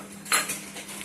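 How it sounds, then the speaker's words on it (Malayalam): A spoon scrapes and clinks against a pot while cashew paste and thick coconut milk are stirred for beef stew, a few quick close metallic knocks in about a second. "ഇട്ട് കൊടുത്തിട്ട് ഒന്നും കൂടെ ഇളക്കണം."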